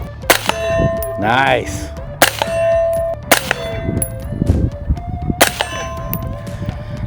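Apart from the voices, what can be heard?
suppressed rifle shots hitting steel target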